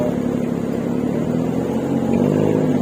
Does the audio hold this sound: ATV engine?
yes